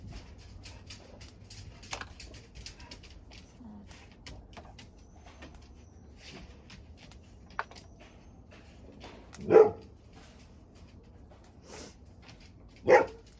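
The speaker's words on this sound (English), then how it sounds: "Dogs are barking." A few distant dog barks ring out over a low, steady background hum, with two louder barks near the end.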